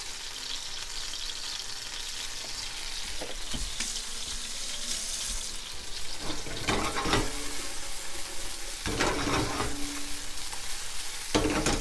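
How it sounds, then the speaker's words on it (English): Tomato concasse and basil being sautéed in a hot pan, a continuous close sizzle with occasional stirring clatters and scrapes, moderately loud and without talking. "I'm going to give these a little bit of a quick little saute"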